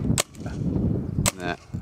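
A Tippmann FT-12 paintball marker fires outdoors, giving two sharp, close pops about a second apart over a low background rumble.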